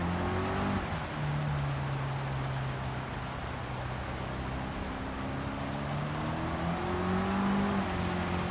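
Porsche Cup race car engines in Gran Turismo 7 drone continuously throughout, with sustained revving tones that rise and shift as the cars accelerate, loud and steady with no talk.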